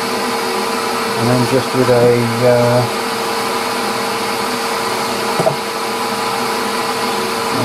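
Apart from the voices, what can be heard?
wood lathe spinning up to about 1000 RPM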